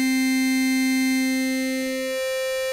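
Native Instruments Massive synth oscillator with ring modulation raised: a steady, loud sustained tone rich in harmonics, its low fundamental dropping out partway as a higher partial takes over, alone with no talk.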